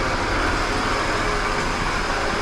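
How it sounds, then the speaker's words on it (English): Steady, close idle of a vibrating V6 Holden Commodore engine with a constant low rumble and even hum, unchanging throughout, no voices. "So what you hear is the engine only and nothing to do with the gearbox."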